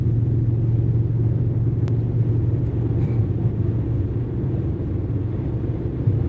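Harley-Davidson motorcycles, including three-wheeled trikes, ride past on an Indiana road, giving a steady low rumble that holds throughout without a clear approach or fade.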